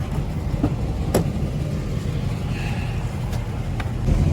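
A truck engine runs as it pulls out of a garage, a close, steady rumble marked by a few sharp clicks and knocks, with no one talking.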